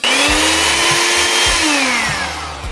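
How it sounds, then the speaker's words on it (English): An electric hand beater creams unsalted butter in a bowl, its motor whining loudly and steadily while the beaters knock and thump rhythmically against the mixture. "I'm using the electric beater."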